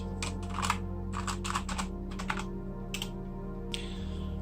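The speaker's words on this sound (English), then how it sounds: "This keyboard has black mechanical keys." Close, crisp typing on a Rapoo VPRO V720S mechanical gaming keyboard with black mechanical keys, bursts of clicky keystrokes over a steady low hum.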